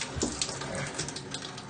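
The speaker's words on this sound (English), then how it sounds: "Water wasn't completely drained." Water trickling and splashing from an opened shower valve during a cartridge replacement, a faint close wet hiss with small drips.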